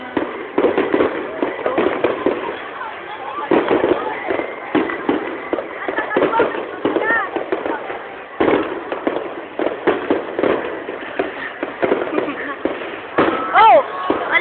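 Fireworks burst over Mall of Asia in a rapid string of booms and crackles that carries on throughout, while excited voices nearby talk and exclaim over them.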